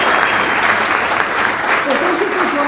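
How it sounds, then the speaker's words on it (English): An audience at an evening library lecture gives a sustained round of applause, dense steady clapping throughout, with a voice rising near the end. "Give them a round of applause."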